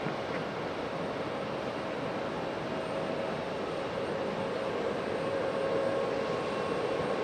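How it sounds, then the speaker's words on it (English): A Lufthansa Airbus A350 airliner lands at Raleigh Durham airport. A broad, steady roar of engine and air noise holds at the same level throughout, heard from a distance, with no talk. "Very dirty A350, this Lufthansa."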